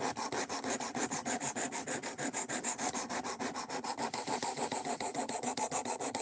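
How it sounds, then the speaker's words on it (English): A knife is drawn over the stones of a sharpening system in an even, rapid rhythm of close, raspy back-and-forth strokes, roughly five per second, growing slightly louder toward the end, with no talking. "Will Shaw, I love this sharpener. It's slow, but it gets great results"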